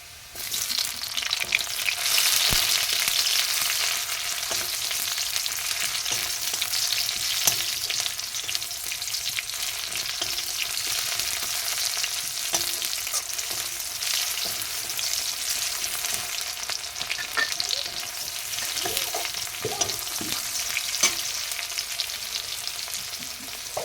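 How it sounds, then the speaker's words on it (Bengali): Onions and chopped tomato frying in a pan give off a steady, close sizzle with occasional stirring scrapes, and no voices are heard. "এবার পেঁয়াজটা ভাজা হয়ে গেছে, এরপর টমেটো কুচিটা দিয়ে দিচ্ছি।"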